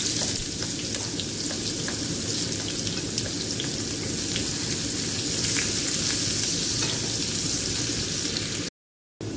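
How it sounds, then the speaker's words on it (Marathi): Bay leaf and cumin seeds sizzle in hot oil in a pan with a dense, crackling hiss. Faint stirring ticks sit over a low rumble, and the sound cuts out briefly near the end. "तेल टाकूया आपण तेजपत्ता टाकूया जिरा टाकते"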